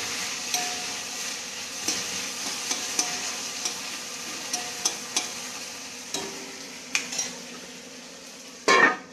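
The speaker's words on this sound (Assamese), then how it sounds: "পটল আলু মায়ে ভাজি আছিল" Pointed gourd and potato fry in a pan with a low continuous sizzle, punctuated by regular light clinks of a utensil stirring against the metal and a louder scrape near the end.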